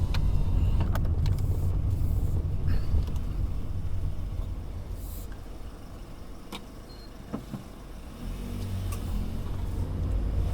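A 2020 Perodua Bezza cruising on a highway toward Kuala Lumpur, heard from inside as a steady low engine and road rumble with tyre and wind noise, easing slightly midway.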